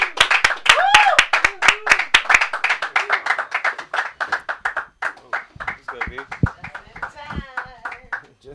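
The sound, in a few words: open mic audience clapping for a comedian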